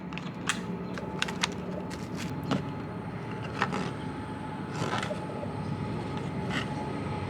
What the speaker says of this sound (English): Sorry about the train noise in the background if you can hear it.